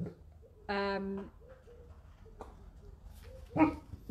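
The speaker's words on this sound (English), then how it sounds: "I apologize for the dogs" Dog barking indoors in two short bursts, a loud harmonic bark and a later sharper yelp, under and between a quiet voice speaking.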